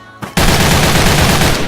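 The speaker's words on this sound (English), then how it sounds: "It just basically has the same behavior when you shoot at full." An AK103 rifle in the video game Special Force 2 fires one sustained full-auto burst, loud and close, after a brief quiet start.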